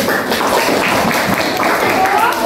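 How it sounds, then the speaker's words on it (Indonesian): A classroom of students claps together after a quiz, producing a brisk, continuous patter mixed with lively chatter and a teacher's voice over it. "Tepuk tangan dulu."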